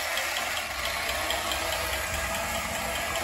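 A vintage Nomura battery-operated tin highway patrol helicopter toy gives off a steady mechanical whirring rattle, constant and fairly close, with a thin high whine running throughout and no talking.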